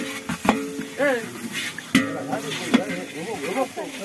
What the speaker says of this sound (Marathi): कांद्याची उडान फोडणी म्हणते.